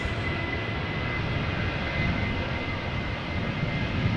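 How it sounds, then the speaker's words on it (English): Ryanair Boeing 737-800 jet at Amsterdam Schiphol Airport on a crosswindy day, giving off a continuous broadband engine roar at fairly close range, steady in level throughout with no voices. "a Ryanair 737-800."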